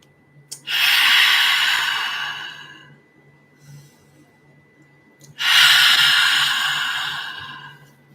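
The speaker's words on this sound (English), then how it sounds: "Let's take a deep inhale in." Two long, deep breaths drawn in through the nose, each a loud, airy rush lasting about two seconds, separated by a quiet pause, with no speech.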